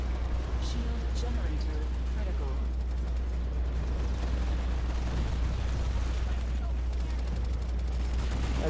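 Gunfire in Planetside 2 crackles in dense, rapid bursts against a constant low battlefield rumble, with voices talking over the shooting throughout.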